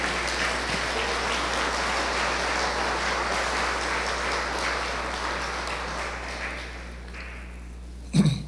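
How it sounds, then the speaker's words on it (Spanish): A church congregation claps in a steady, dense wash of applause that gradually thins and fades toward the end, followed by a brief thump. "Sí, puede aplaudirle."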